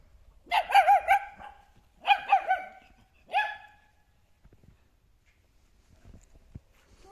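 A dog barks in three short bursts of several harmonic barks each, close and fairly loud, with quiet pauses between, at a monastery setting.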